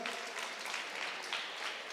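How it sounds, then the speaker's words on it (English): Steady applause from the audience at a national debate championship final, dense and even across the moment, with no voices cutting through. "I wish you could give them the clap they deserve."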